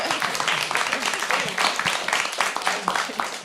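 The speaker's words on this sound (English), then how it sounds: "give them a round of applause because you guys are so amazing in this film" Audience applause at a film event on stage, a dense steady patter of clapping from a crowd lasting several seconds, with voices and cheering mixed in underneath.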